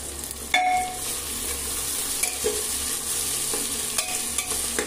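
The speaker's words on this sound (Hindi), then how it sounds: "मैं कुकर में बना रही हूँ मटन प्याज वगैरह डाल दी हूँ" Mutton with onions cooking in a pressure cooker in a home kitchen, giving a steady close sizzle with occasional stirring scrapes and clinks throughout, no talking.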